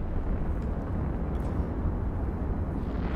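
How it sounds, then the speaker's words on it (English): A large ship explodes in the EVE Online space game, heard as a steady, dense low rumble that fills the whole stretch at an even loudness, with no talk over it. "So that's another pretty big explosion."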